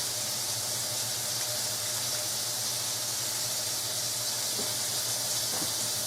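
Water running into a pot for one-pot pasta, a steady hissing gush that stays even throughout, with a few faint clinks, and no talking.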